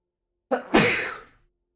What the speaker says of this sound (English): got some sneezes for you